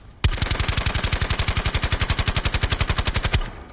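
The Peacekeeper gun in Call of Duty Black Ops 4 fires one unbroken automatic burst of about three seconds, with rapid, evenly spaced, loud, punchy shots and no voices.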